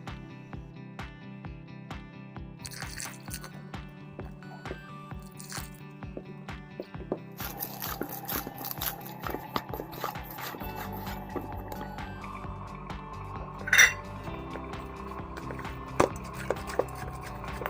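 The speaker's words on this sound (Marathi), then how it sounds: "आता आपण कणिक मळून घेऊयात" Chapati dough with salt, turmeric and oil being kneaded by hand, giving soft, repeated squishing and slapping sounds in a steady rhythm, close and fairly quiet, with a few sharper clicks.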